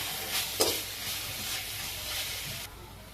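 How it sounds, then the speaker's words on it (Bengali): Garlic paste, chilies, turmeric and cumin frying in a little oil while stirred, a steady hiss and sizzle with a sharp scrape near the start, fading quieter just before the end. "রসুন বাটা দিয়ে সামান্য তেলে ভাজার পর কাঁচা ঝাল, শুকনা ঝালের গুঁড়া, হলুদ, জিরা একসাথে দিয়ে ভালোভাবে নেড়ে নেব।"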